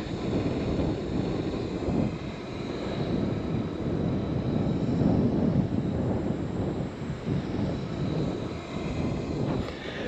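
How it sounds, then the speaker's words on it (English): Strong wind blows outdoors in the rain during a crawfish boil on a small stove, a loud continuous rushing buffeting the microphone with no talk. "The wind is playing havoc with my little stove again"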